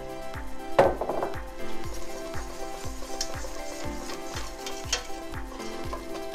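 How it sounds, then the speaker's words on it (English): Flour is whisked into shallots cooking in butter for a roux for homemade mac and cheese, with a steady sizzle and rhythmic whisk strokes clicking against the pan, no voices. "now we will add equal parts flour and whisk thoroughly until the flour"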